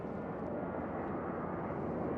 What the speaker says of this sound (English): another plane, never ends